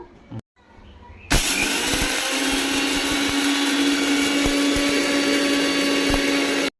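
An electric mixer grinder starts with a sudden loud roar, grinding mustard and fenugreek into powder in a steady, high-pitched whir. Brief handling noises come just before, and the motor stops abruptly at the end.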